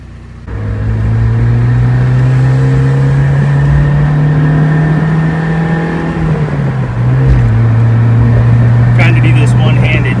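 A 1990 Mazda Miata engine fitted with new spark plugs and wires runs close and steady, a smooth low drone that dips slightly in pitch near the seven-second mark, with someone talking over it.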